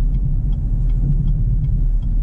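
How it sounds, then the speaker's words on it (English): A deep, steady 6.2-liter V8 engine rumble from a 2019 Chevrolet Silverado High Country truck fills the clip, droning continuously with low throbbing tones, heard from inside the cabin. "I always love the sound of big burly V8s"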